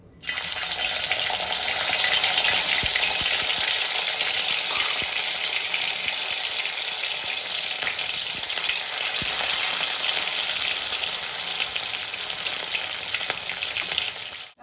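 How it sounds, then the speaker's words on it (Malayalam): Pre-cooked duck meat fries in hot oil in a pan for a Kerala duck roast, a loud, continuous, dense sizzle that holds steady throughout with no voices. "ആ ഇറച്ചി നമ്മുടെ എണ്ണയിലൊന്ന് ഫ്രൈ ആക്കി എടുക്കണം"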